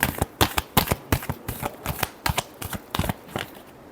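Tarot cards being shuffled by hand give rapid, crisp riffling flicks close to the ear, a dense run of about twenty quick card slaps with no talk.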